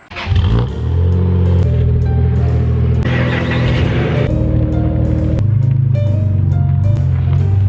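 A Toyota Supra's engine runs loud and close as the car is driven out of a garage, holding a steady rumbling idle with a few brief revs.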